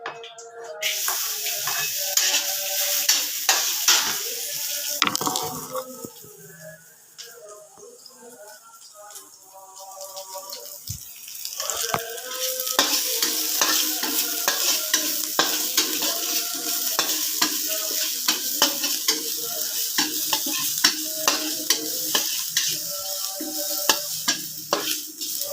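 Garlic sizzles and spatters in a small amount of leftover oil in a pan while being stirred, with steady frying hiss and scraping stir strokes throughout, loud and close with no talk.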